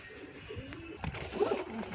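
A pair of 14-feather (14 pari) pigeons coo softly nearby, a short low gurgling call rising briefly amid quiet background noise.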